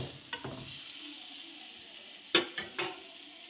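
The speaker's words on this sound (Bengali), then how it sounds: "কড়াইতে তেল দিয়ে দিয়েছি, এখন এই যে বেটে নেওয়া মশলাটা কড়াইতের মধ্যে আমি এর মধ্যে দিয়ে দেবো" Ground spice paste drops into hot oil in a wok, giving a faint sizzle with a few sharp scrapes and clatters of a utensil, quiet and close.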